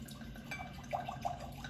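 Barolo red wine pours into a glass, a faint gentle trickle with a few small splashing drips over a quiet background.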